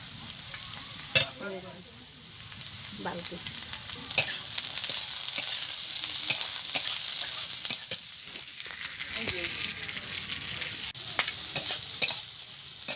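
Vegetables and peas fry in a pan with a steady sizzle while a utensil scrapes and stirs in intermittent strokes, close and moderately loud, with no talking.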